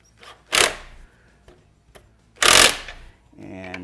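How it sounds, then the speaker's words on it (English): Plow light mounting bolts being tightened with a tool: two short, loud, harsh bursts about two seconds apart, with quieter clicks and rattles between them and a low hum at the end. "And tighten your bolts up."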